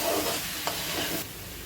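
A green paste of chili, coriander and ginger-garlic frying over onions in a pan for chicken: a brief close, steady sizzle with a faint stirring tap midway.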